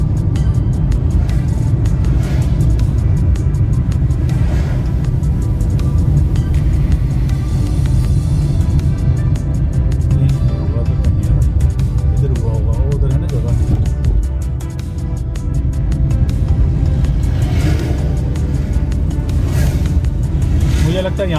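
Steady loud traffic rumble from cars and other vehicles on the NH44 highway near Ramban, a continuous close engine drone and road noise with swells as vehicles pass, and someone talking over it.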